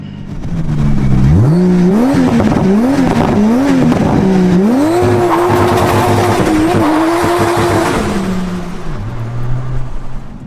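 Loud 600 bhp 2JZ-swapped rear-wheel-drive Subaru Impreza, its engine and exhaust revving hard and rising through several sharp climbs before settling into a sustained roar, close and alone.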